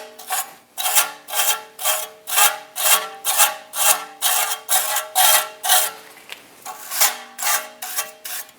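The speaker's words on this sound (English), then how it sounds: "a wire brush, we're going to go through and we're going to clean all of the contact points where our shoes are going to hit" Wire brush scrubbing the contact points on a rear parking brake backing plate of a Chevrolet Express 2500, about fifteen rhythmic rasping strokes in quick succession, close and loud with no talking.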